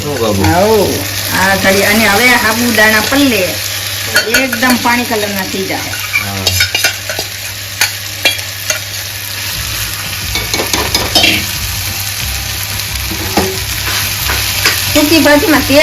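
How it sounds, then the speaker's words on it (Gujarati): Potato sukhi bhaji fries loudly in oil in a pan as a spoon stirs and scrapes it, giving a constant close sizzle with repeated utensil clinks throughout. Someone talks over the cooking. "હવે આ બધું મિક્સિંગ કરી નાખવાનું"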